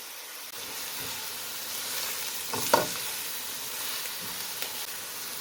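Garlic and fresh coriander frying in ghee as dried coriander is stirred in, a steady close sizzle with a brief louder scrape of the spoon midway.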